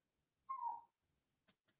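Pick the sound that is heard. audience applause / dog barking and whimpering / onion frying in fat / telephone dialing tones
dog barking and whimpering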